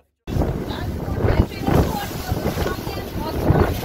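Strong wind buffeting the microphone aboard a fishing boat in rough seas in the Gulf of Paria, Trinidad, with loud gusty roaring and churning water throughout.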